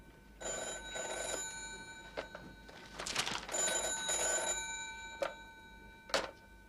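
A telephone bell rings under a cushion, sounding fairly faint and muffled as repeated trilling rings with short gaps between them.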